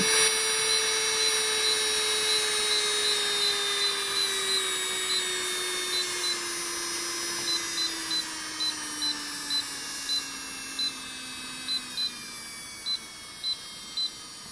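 A Medenia New Touch electric nail file drill runs steadily with a high whine whose pitch slowly falls, while a series of short, regular electronic beeps sound over it, close and fairly loud.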